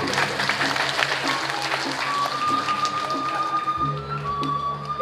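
An audience at a Balinese drama gong performance claps in a dense, pattering spread of hands. Sustained musical tones ring underneath the clapping throughout.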